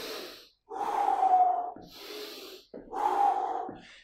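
Heavy, rhythmic panting breaths following a high-intensity HIIT workout, with two long loud exhales and quicker gasping inhales, close and alone with no talk.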